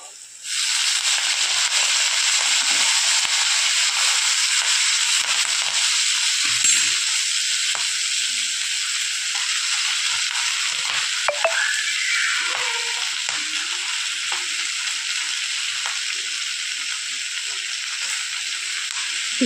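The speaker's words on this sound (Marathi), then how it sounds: "आणि आता जी मेथीची भाजी आपल्याला टाकायची आहे।" Fresh fenugreek leaves (methi) tossed into a hot pan with turmeric, setting off a loud, steady hissing sizzle that runs unbroken, with occasional stirring scrapes and a faint voice in the background.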